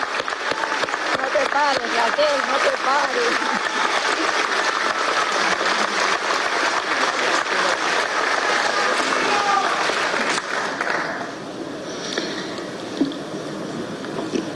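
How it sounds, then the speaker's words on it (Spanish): Applause for Raquel at the presentation of a human rights violations report: dense, sustained clapping with voices shouting over it, fading toward the end as the room quiets. "Vamos a darle un aplauso a Raquel."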